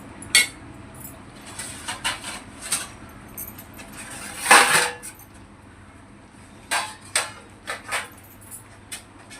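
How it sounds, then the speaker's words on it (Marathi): A lid set on a pan of fish simmering in masala, with several sharp metallic clinks and clatters, one louder knock in the middle, close by amid light kitchen handling. "आता मी त्याच्यामध्ये झाकण ठेवणार आहे"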